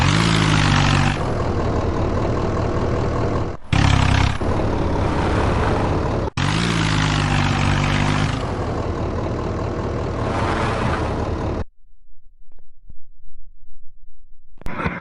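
A tractor engine idles and revs in the Indian Desi life simulator game, a loud, steady, low mechanical drone with brief shifts in pitch, cutting out near the end to leave faint scattered noise.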